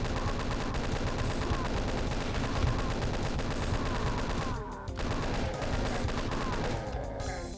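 Rapid sustained gunfire from the Doom 2 map Dead Calm rattles on almost without a break, dense and loud with explosive bursts, dipping briefly midway before the barrage resumes.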